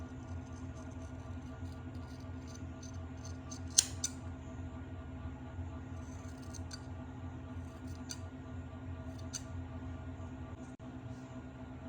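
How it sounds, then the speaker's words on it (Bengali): Scissors snip through hair in a home haircut, a few sharp, quiet clicks spaced irregularly over a steady low background hum, with no talking. "চুল তো কেটেই যাচ্ছে"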